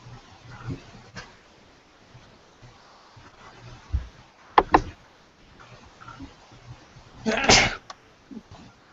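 One sharp human sneeze bursts out after several seconds of quiet room sound with a few faint knocks and clicks, loud and close against the otherwise still background.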